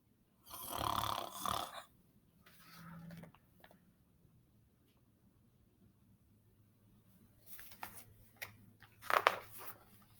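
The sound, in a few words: snoring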